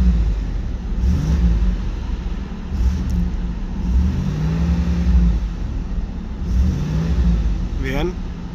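Pontiac Trans Am engine idling and revving at about 2000 rpm, a steady low mechanical drone with mild swells, recorded close up while someone talks over it.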